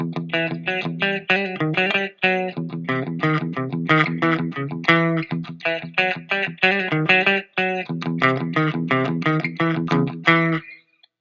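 A distorted electric guitar riff plays continuously and loudly, with tight, chugging palm-muted repeated notes and brief gaps, ending abruptly.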